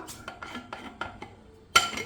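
A jar lid is worked open, giving a run of small, light clicks and taps, then one louder metallic clank at the end.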